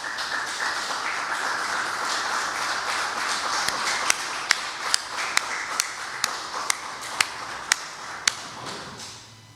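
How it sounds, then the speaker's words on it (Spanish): Church congregation applause builds as a soft, diffuse patter, then gives way to a few louder, evenly spaced single claps near the end. "¿Cuánto le damos un aplauso al Señor?"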